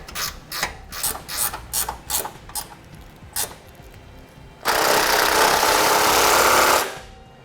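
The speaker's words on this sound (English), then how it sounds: "we can go ahead and tighten down all the bolts" Ratchet socket wrench tightening bolts on a Blue Ox base plate fitted to a 2010 Honda CR-V, with rapid bursts of clicking strokes, then a longer loud rasping stretch before it stops.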